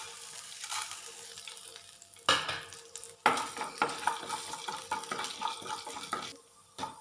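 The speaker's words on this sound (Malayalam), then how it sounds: "ഓയിൽ ചൂടായതിന് ശേഷം ഉഴുന്ന് പരിപ്പ് ഇട്ട് കൊടുക്കുക" Urad dal frying in hot oil on a tava, a soft sizzle that jumps louder as more goes into the pan, then crackles and spits steadily with light stirring, no voices.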